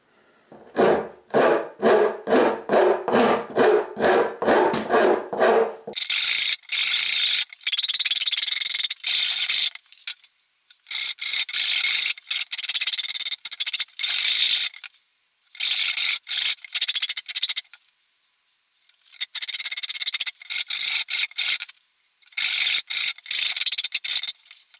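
A Precision Bass neck being shaped by hand near the 12th fret, with bursts of close, steady rubbing and rasping strokes broken by short pauses, after an opening run of rapid rhythmic scraping.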